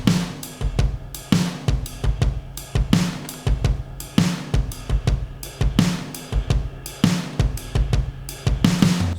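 A programmed virtual drum kit played from a MIDI keyboard in a minimalist home studio lays down a steady, punchy pattern of kicks, snares and cymbal hits, loud and upfront with no talking.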